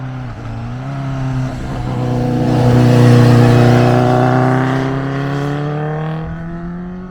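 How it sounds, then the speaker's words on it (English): A loud motorbike engine idles and rumbles, then revs up and eases back down, a deep steady drone close by with no talking. "we've got to keep it recording for this bike, Ken."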